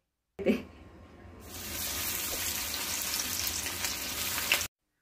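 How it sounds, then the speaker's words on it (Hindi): Licious ready-to-cook crispy chicken wings dropped one by one into hot oil in a pan, giving a steady, loud, close sizzle that swells after a brief quieter start and carries on without talk. "आपको क्रिस्पी चिकन विंग्स एक बाय एक करके उसमें डालना है और फ्राई करना है"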